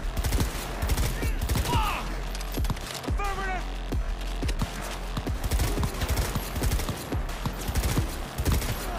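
Rapid bursts of gunfire from a shootout in the Cyberpunk video game, with dense, repeated cracking shots over a steady background rumble and brief electronic chirps from the game.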